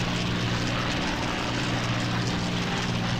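Propeller fighter plane engines in the Combat Wings: Battle of Britain game drone loudly and continuously, a thick steady roar with a low throbbing hum and no pauses.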